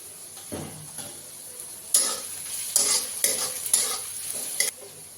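Onions sizzle in an oiled pan, with a quiet steady fry punctuated by several sharp bursts of spatula scraping and stirring, nearby and alone without talk.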